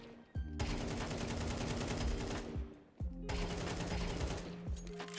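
Long sprays of automatic gunfire in the Counter-Strike 2 video game, two sustained bursts of rapid shots with a brief pause between them, loud and continuous.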